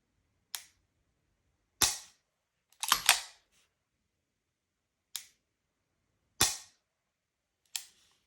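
Dry-fire trigger pulls on an all-steel CZ Shadow 2 Orange pistol, the first in double action: about seven sharp, isolated metallic clicks and snaps spaced irregularly over quiet, one a quick cluster of clacks, close and crisp with no talking.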